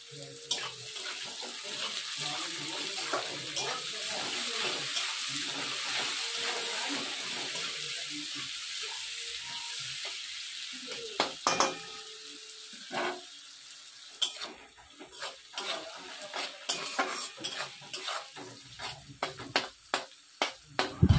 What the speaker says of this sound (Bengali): এখন সিমে দিয়ে সুন্দর করে পেঁয়াজটাকে প্রথমে একটু গলিয়ে নেব।